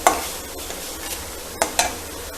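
Grated coconut and curry leaves fry in a pan while a spoon stirs and scrapes them, giving a soft continuous sizzle broken by a few sharp metallic scrapes and knocks, close up with no talking.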